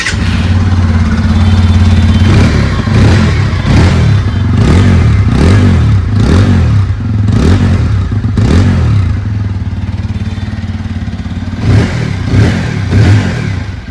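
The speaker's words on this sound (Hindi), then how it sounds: "आइए अभी सुन लेते हैं इस बाइक की एग्जॉस्ट नोट।" A TVS Apache RTR 160 motorcycle with a single-channel ABS, dual-disc setup sits idling nearby, then its exhaust note blips through a series of sharp rev bursts that rise and fall in quick succession over a steady low engine drone, with no voices.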